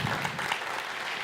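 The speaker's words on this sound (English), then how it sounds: "But allow me to give you a very, very warm hand of applause." An audience claps warmly at a symposium, a dense, even wash of applause lasting a brief moment.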